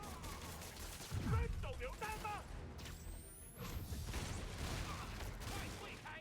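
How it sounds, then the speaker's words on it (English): Gunfire in Marvel's Spider-Man Remastered, a burst of shots and impacts over a busy game soundscape with a brief whistling streak midway, fairly loud and continuous throughout. "Now I'm being shot at with magic bullets"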